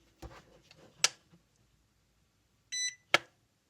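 A few short electronic beeps from an LDRC LD1899 RC drift car remote in otherwise quiet surroundings, with soft clicks between them; one clear high tone near the end.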